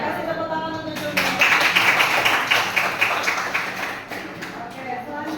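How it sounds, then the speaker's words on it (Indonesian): Students in a classroom break into brief clapping, a moderate burst of hand claps that swells then tapers off, close by, with a teacher's voice heard around it. "kasih tepuk tangan untuk Jumlah"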